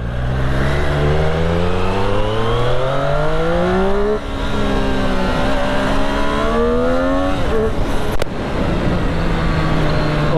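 A Triumph Street Triple R 765 motorcycle engine while riding, loud and close, rising through the revs in repeated upshifts with a brief dip between gears and a steady high whine, with no speech.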